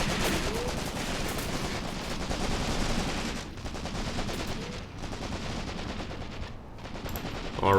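Bursts of machine-gun and rifle fire in the WW2 tactics game Graviteam Tactics, set on the Mius Front, with sustained rattling volleys and short lulls, loud and continuous.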